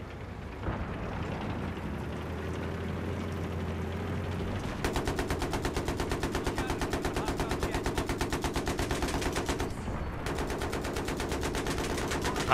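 Sustained rapid automatic gunfire in Battlefield 3, aimed at an AC-130 gunship over the Alborz Mountains, starting after a low rumbling lull and rattling on in dense bursts with a brief break near the end.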